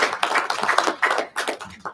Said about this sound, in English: I want to give you and your troops a round of applause as well